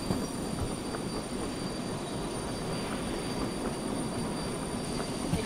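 A train rolling along rails in the Derail Valley simulation game gives a steady, even rumble with faint wheel squeals and a thin high tone running throughout, heard alone with no talking.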